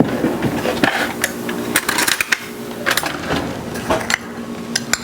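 A spoon scrapes and clinks against a mixing bowl holding sticky chocolate stout ice cream base, with repeated short metallic taps and scrapes, close and fairly loud.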